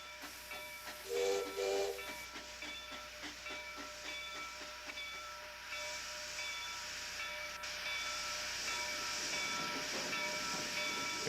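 A Milwaukee steam-powered streamliner train hisses and rumbles along with a sharp burst of steam whistle early on, followed by sustained steam hiss and rail clatter at moderate volume.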